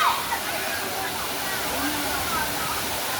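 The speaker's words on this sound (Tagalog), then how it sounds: "Ilog po siya guys, pero ayan o, unti-unti yung tubig guys, galing po yan sa taas." River water in Basay, Quezon trickles and flows down from higher ground, a steady broadband rush of moving water, fairly near and continuous throughout.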